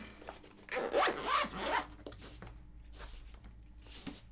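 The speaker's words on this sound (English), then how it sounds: "And it just zips up." A zipper is drawn shut on a craft supply pouch in one close, raspy pull, followed by faint rustling handling sounds.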